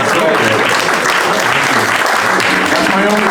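A loud, steady round of applause from a comedy show audience, dense clapping that holds evenly throughout with some voices mixed in.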